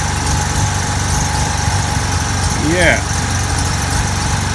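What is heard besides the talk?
Mazda RX-7 engine idling with new exhaust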